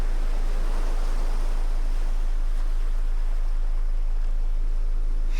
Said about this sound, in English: Sorry, it's very loud ocean sounds.